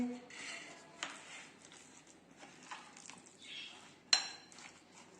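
Marinated mutton keema is mixed with ghee in a bowl, producing soft squishing and occasional clinks of a utensil against the dish, quiet and close under a person speaking.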